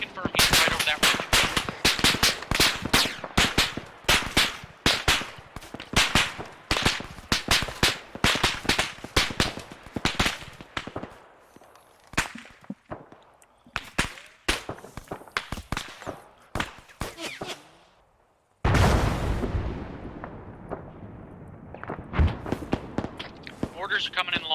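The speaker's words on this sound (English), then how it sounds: "Mortars are coming in long. Those are friendly. Friendly mortars." Mortar impacts and rapid gunfire in a military simulation game, with dense bursts of automatic fire and sharp reports, scattered quieter shots, then a heavy boom near the end, with voices talking over the action.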